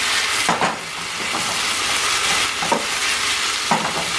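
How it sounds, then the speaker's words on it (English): Cumin beef stirred and fried in a pan, a steady loud sizzle with hissing steam and a few sharp clanks of the utensil against the pan, without talk. "I'm stirring, if you will, as if I had a wok"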